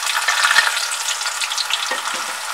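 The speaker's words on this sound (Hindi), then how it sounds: "और अपनी प्याज को ब्राउन कर लेते हैं" Onions browning in mustard oil over a medium flame, a steady close bubbling sizzle that runs unbroken throughout, with a few faint stirring knocks underneath.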